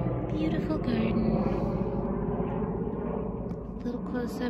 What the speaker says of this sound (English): look at the beauty of the garden while the plane's flying over